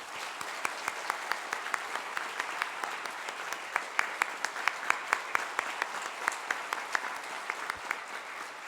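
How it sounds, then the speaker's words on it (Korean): Church congregation giving sustained applause to a retiring pastor at an installation thanksgiving service, many hands clapping steadily with some sharp, rhythmic claps standing out in a loose unison beat. "우리 최병일 목사님의 다시 한번 힘찬 그런 박수를 부탁드리겠습니다"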